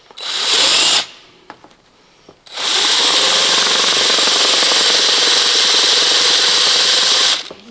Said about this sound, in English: Let's continue to drill it out.